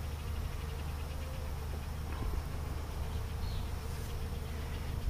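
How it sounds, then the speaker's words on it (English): Many bees buzz steadily around a cloth wicking sugar water, a dense, continuous outdoor drone close by with no break over several seconds. "There's a lot of bees"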